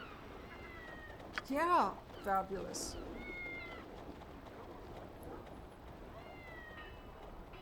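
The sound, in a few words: cats meowing in video game Icewind Dale 2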